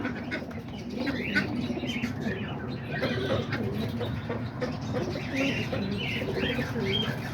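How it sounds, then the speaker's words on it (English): Pigeons, doves, budgies, cockatiels and lovebirds in a backyard aviary give a steady blend of soft cooing and scattered chirps, close and continuous throughout with no break. "there's all the pigeons and the birds I showed you guys at the beginning"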